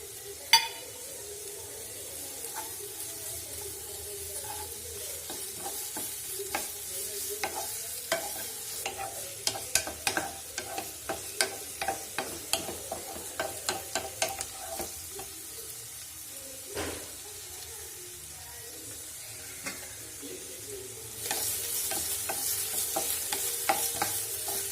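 Onions sauté with ginger garlic paste in a pan, giving a steady soft sizzle broken by repeated scraping and clacking strokes of a stirring spoon, close by and moderately quiet.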